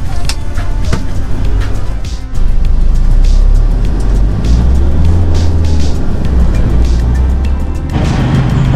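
Steady low engine rumble of a cattle truck carrying people to the markets in Phuket's old town, a loud continuous drone with road noise and brief rattles throughout.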